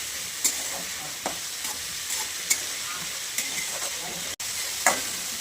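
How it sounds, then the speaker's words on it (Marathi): Potatoes and peas for poha sizzle steadily in a hot pan, with periodic clinks and scrapes of a spatula stirring them, close and continuous with no talk. "मस्त आपण परतून घेणार आहे बटाटा"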